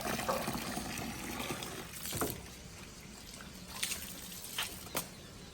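Water splashes and trickles softly as a cloth is worked with detergent water from a bucket, with a few sharper drips and slaps standing out against a steady low wash.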